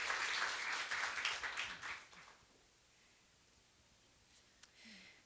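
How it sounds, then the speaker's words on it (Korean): An indoor concert audience claps in welcome for a hanbok designer, a dense burst of applause that lasts about two seconds, then fades into quiet room tone with a faint stray sound. "여러분 디자이너 김영진 선생님을 큰 박수로 환영해 주세요."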